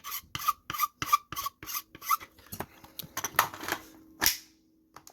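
An AK magazine is filed by hand to fit, with a run of evenly spaced, close rasping strokes, then quicker scraping and a few knocks and clicks as the file and magazine are handled.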